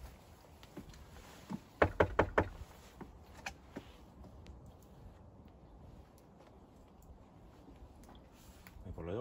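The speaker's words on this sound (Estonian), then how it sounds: "Koputame nüüd uksele" Knocking on a house door: a quick burst of four or five sharp raps close by, then a couple of lighter taps, with people talking quietly before and after.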